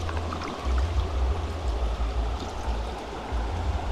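Water poured out of a boot splashes in a steady, close stream for a few seconds, with a low rumble underneath.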